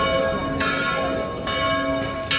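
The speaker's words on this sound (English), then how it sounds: "You can actually see the bell there ringing." A church bell in Dubrovnik rings out in repeated clear strikes, each leaving a long shimmering hum that overlaps the next, heard outdoors at moderate distance.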